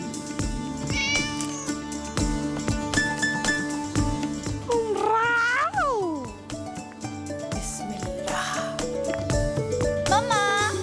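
A pet cat meows repeatedly in rising and falling cries, close and loud, amid a busy indoor scene with other voices and clatter in the background.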